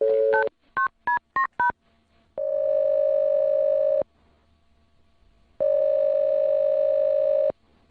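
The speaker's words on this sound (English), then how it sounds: "I'm going to dial her phone number right now" A telephone keypad tapping out a number in quick tone beeps, followed by two long steady ringback tones separated by silence, clear and alone.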